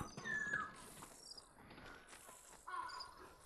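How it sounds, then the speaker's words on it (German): Faint, sparse cricket chirps at a graveyard in Ghost of Tsushima, short high trills repeating over soft background ambience. "ich höre die Grille ja auch schon"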